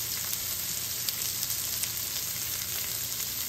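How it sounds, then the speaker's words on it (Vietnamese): Shrimp seasoned with coconut sugar, cooking with broccoli in a frying pan, sizzle in a steady, close hiss broken by small clicks and scrapes as they are stirred, with no talk. "Bây giờ mình trộn đều lên cho gia vị nó thấm vào trong tôm."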